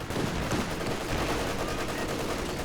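Machine-gun fire in a Company of Heroes 2 battle, a sustained dense clatter of rapid shots with mixed battle noise, loud and continuous throughout.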